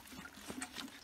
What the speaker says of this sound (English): as we water these plants.